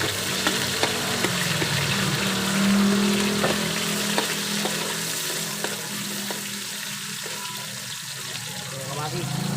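Onions fry in a pan for adobo with a continuous sizzling hiss and occasional light utensil ticks, fairly close, with a brief low hum partway through.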